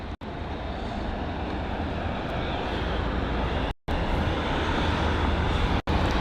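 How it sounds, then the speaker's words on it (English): A Virgin Atlantic Airbus A330 arriving at foggy London Heathrow gives a steady, loud, broadband engine roar that holds for the whole stretch, broken only by brief dropouts. "I think that's the Virgin Atlantic A330."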